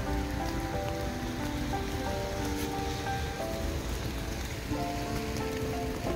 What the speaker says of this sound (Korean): 비가 왔어요.